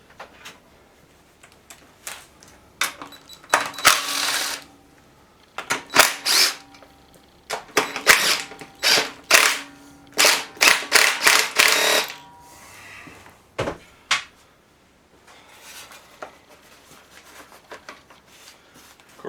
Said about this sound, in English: Get the recoil starter out of the way.